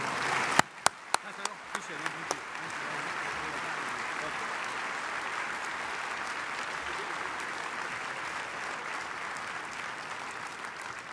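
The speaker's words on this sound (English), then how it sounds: "Why don't we give them a big hand of applause?" Several loud, separate claps ring out at the start, then a luncheon audience joins in with sustained, even applause that fills the room and carries on to the end.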